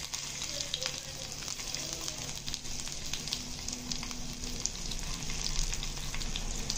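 Dried chilies and garlic frying in hot oil, a steady close sizzle and crackle running throughout at moderate level with no talking.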